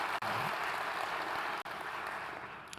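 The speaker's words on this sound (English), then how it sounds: "So just a round of applause for the judges." An audience at a civic and industrial hackathon applauds the judges: a steady wash of clapping from many hands that fills the room evenly for a few seconds, with no talk over it.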